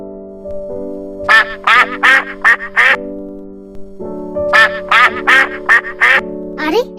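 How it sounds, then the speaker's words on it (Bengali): Two bursts of loud, close duck quacking, several rapid quacks each, over a steady low hum in the background. "এতগুলো হাঁস হাঁসগুলো কোথা থেকে এলো"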